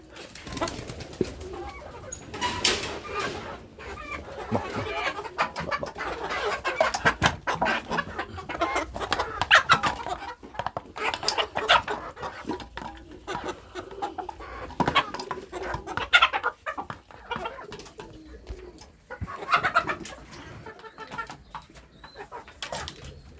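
Chickens cluck and chatter continuously throughout, a busy flock close by at feeding time, with overlapping calls and occasional louder squawks.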